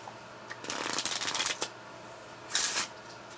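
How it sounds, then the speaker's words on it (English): Two quick bursts of playing cards being riffle shuffled, a fluttering ripple close up, separated by a short pause. "you want to shuffle the cards and maintain the top 2 cards"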